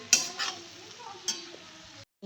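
Cabbage vegetable dish cooking in a pan in a home kitchen, with a close scrape of stirring, soft sizzling and a couple of sharp utensil clinks over a short stretch before it cuts out.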